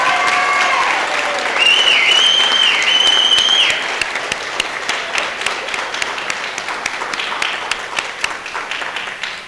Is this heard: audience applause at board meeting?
yes